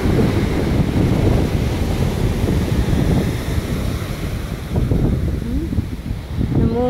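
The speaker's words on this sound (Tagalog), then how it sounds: "Uy, salpok ng tubig" Water surges and crashes against a boat at sea, a loud rushing wash of surf mixed with heavy wind buffeting the microphone, rising and falling in waves, with a brief voice near the end.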